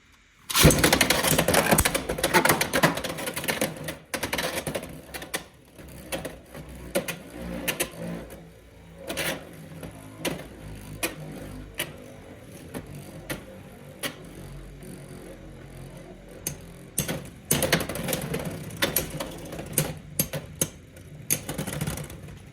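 Beyblade X tops clash and spin in a plastic stadium, with a sharp launch burst followed by a continuous whirring grind punctuated by repeated metallic clicks and hits, fairly loud and close, with a final burst of collisions near the end.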